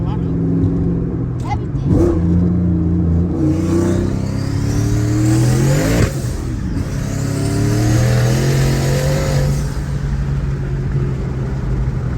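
A turbocharged Ford Mustang pulls hard through several gears, its engine rising in pitch, dropping at each shift and climbing again, loud and close inside the cabin while people talk over it.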